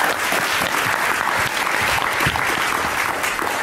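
Studio audience applause at a television talk show, dense, sustained clapping from a full crowd, loud and continuous throughout.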